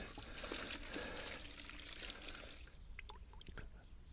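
Water runs and trickles steadily while freshly harvested Jerusalem artichoke tubers are washed, with soft splashing and a few brief drips near the end, fairly quiet and close.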